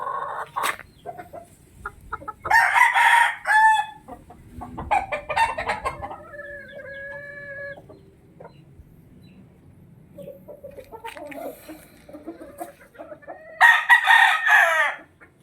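A five-month-old Talisay rooster from a Golden Boy cross hen crows and clucks outdoors in San Miguel, Bulacan, with several loud, close calls spread across the stretch and quieter clucking between them.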